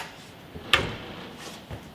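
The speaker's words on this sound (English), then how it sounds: "Oh, those factory doors, they close so nice." A factory door on a 1970 Ford F100 Ranger pickup truck shuts with one sharp, solid thud close by, followed by quiet ambience.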